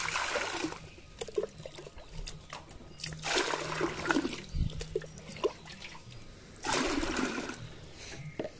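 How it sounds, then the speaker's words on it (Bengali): Water poured mug by mug into a clay tub for keeping colored fish, heard as a few separate gushing splashes with trickling between them, close by. "সবার প্রথম এই মগটা করে 2 মগ পানি নিয়ে আগে নাদার মধ্যে দিয়ে দেবো।"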